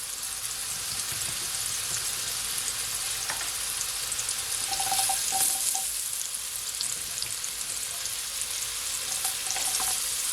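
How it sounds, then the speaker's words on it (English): Pumpkin and carrot sauté in olive oil in a pan for Jamaican seasoned rice, a steady soft sizzle with a few light clinks and stirring scrapes near the end. "So now I'm just gonna saute my pumpkin and my carrot"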